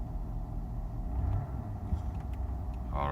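A 2003 Mercedes S-Class that has a transmission problem is driving, giving a steady low engine and road rumble throughout. A brief higher whine or rattle rises near the end.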